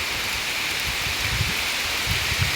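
Heavy rain pours down steadily in a dense, even hiss with a scatter of nearby drops striking surfaces, loud and continuous with no voices.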